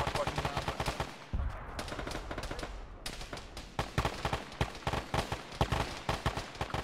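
Rapid gunfire in Arma during a ShackTac squad operation, steady close bursts and single shots repeating throughout with a short quieter stretch early on, loud and unbroken by talk.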